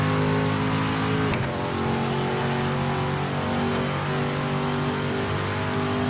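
A race car engine in the Project Motor Racing sim drones loud and steady, with one quick gear shift near the start dropping the pitch before it holds a sustained high-revving tone alone.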